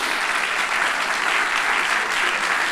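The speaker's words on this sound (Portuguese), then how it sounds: "Dá uma salva de palmas a Jesus." A church congregation in Lisbon applauds, a dense, steady wash of clapping that holds at an even level from start to finish.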